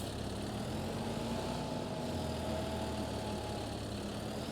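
A tractor engine runs in a farming video game, giving a steady, unbroken drone that holds constant with no talk over it.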